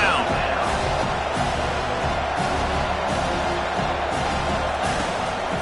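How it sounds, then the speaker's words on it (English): In a college football video game, a stadium crowd roars steadily at third down with broad, sustained noise and occasional louder swells. "Decibels rising as the crowd gets behind this defense on 3rd down."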